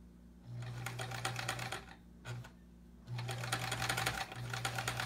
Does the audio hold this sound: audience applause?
no